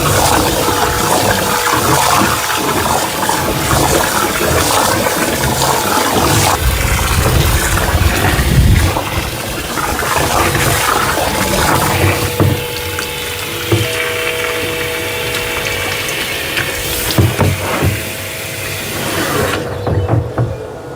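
Water running into a container for a citrus and fruit tree feed soil drench, a continuous loud splashing, gushing flow with clatters and bumps, cutting off at the very end.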